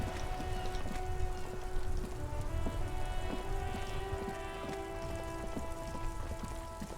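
Steady rain from the video game Disco Elysium, a dense, even patter that runs throughout with faint tonal ambience beneath it and no voices.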